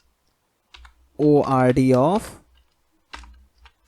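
Keys on a computer keyboard clatter in two short bursts of clicks during a Python programming lesson, one just before a brief spoken word and one after it, close and fairly quiet.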